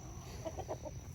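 A few soft, quick hen clucks at a homestead, faint and fairly close, over a steady low background hum.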